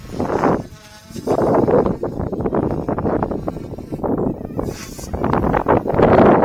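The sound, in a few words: RC helicopter direct drive motor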